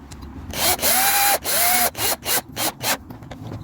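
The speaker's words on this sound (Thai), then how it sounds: "จากนั้นเราก็ขันแค่ตึงๆนะครับ" Power tool driving nuts onto a bolt during assembly of farm equipment, with whirring bursts and rising-pitch whines, then a run of short spaced pulses as the nuts are snugged down; close and fairly loud, no talk.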